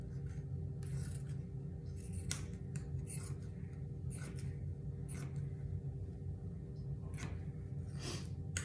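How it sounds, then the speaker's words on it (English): Pinking shears snip around a fabric circle, giving a series of faint, intermittent crisp cuts over a low steady background hum. "I'm just going around my circle with the pinking shears"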